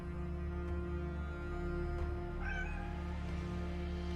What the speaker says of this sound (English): Oh, my kitty.